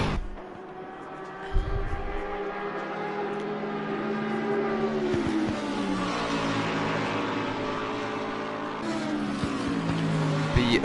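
A Bentley GT3 race car engine at Mount Panorama, a loud, close, sustained roar that climbs and falls in pitch through gear changes as the car accelerates and brakes.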